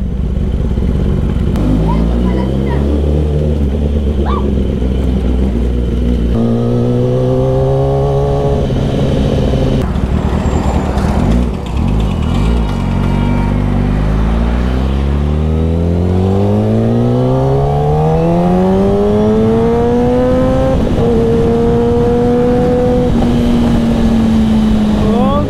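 Several sport motorcycles, a Ducati, a Suzuki Hayabusa and a Kawasaki ZX-10R, start up and rev hard nearby, engine pitch sweeping up and down in loud overlapping roars with voices faintly mixed in.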